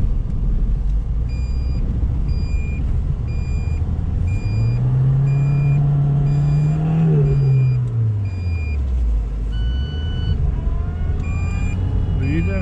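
Lada Niva Travel 2021 crawling through deep snow, its engine rumbling loud and steady with one long rise and fall in revs midway, while faint repeating beeps sound in the background.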